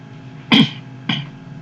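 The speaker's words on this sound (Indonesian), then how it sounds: "Maaf sedikit batuk." Two short coughs, the first louder and the second softer, about half a second apart and heard alone at close range during a mathematics lecture recorded in Indonesian.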